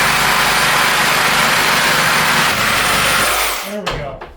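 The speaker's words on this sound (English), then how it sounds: "running it through the planer and they all cleaned up really nice" Thickness planer powered by a Cybertruck, planing wood panels: a loud, continuous roaring cut with a dense whine that runs steadily for over three seconds, then winds down and fades.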